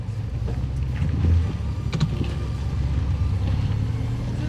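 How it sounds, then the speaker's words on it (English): A Chevrolet Colorado ZR2 truck creeps off-road into a hole at high elevation in the San Juans, its low engine rumble steady with wind buffeting and a few faint clunks and creaks from the suspension. "I'm driving into the hole now."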